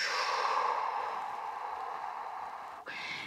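One long deep exhale during a breathing exercise, a breathy airy rush that fades slowly, close to the microphone, ending with a brief quick intake.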